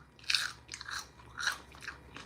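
Crisp, crunchy bites into spicy fried chicken, delivered and eaten inside a car: about four or five close, loud crunch bursts at a steady chewing rhythm, with no talking.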